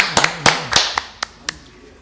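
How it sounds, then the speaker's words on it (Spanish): A few scattered hand claps from a small studio audience on a morning TV talk show, sharp separate claps fading out to a couple of last taps. "Merece otro aplauso, ¿no?"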